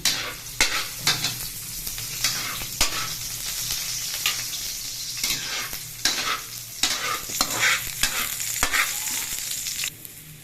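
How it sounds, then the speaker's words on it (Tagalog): Garlic sizzles in a hot pan as the base for chicken adobo, a steady frying hiss broken by repeated stirring scrapes and clinks, close and fairly loud with no voices. "Ilalagay ko na po ang bawang mga kasuka. Ayan. Bigisayin ko lang."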